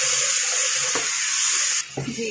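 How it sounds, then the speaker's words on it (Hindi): Water poured little by little into spices frying in a pan for a boneless chicken karahi, giving a loud, close hissing sizzle that cuts off near the end, followed by softer bubbling. "थोड़ा थोड़ा पानी डाल के मैं मसाले को भून रही हूँ।"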